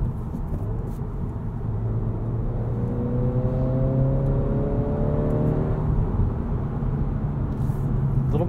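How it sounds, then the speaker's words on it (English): Engine of a 2023 Acura Integra with a 6-speed manual revving while driving, a steady loud drone with rising and falling harmonic sweeps as it climbs through the revs over road noise. "And this is an engine that loves to rev."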